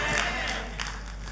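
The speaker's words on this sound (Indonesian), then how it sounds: "Tepuk tangan yang paling meriah" Church congregation applauding and cheering during a sermon, a dense wash of clapping from a large crowd that stays steady, then eases slightly toward the end.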